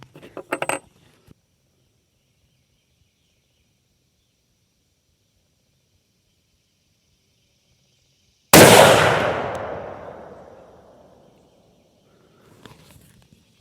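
A deer rifle fires a single loud shot at an outdoor shooting range, its boom trailing off over a couple of seconds amid otherwise quiet surroundings, with faint handling noises before and after.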